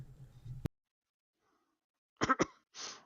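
A few short, harsh bursts close by, two quick coughs followed by a softer breathy one, after a low rumble and a long stretch of silence, during a Tesla Model Y delivery.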